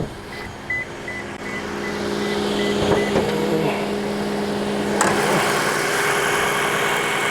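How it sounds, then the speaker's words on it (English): The hybrid engine of a 2022 Toyota RAV4 kicks on and settles into a steady, fairly quiet idling hum with a low drone, heard close with no talking. "And just as I'm about to pull this by for the engine kicks on."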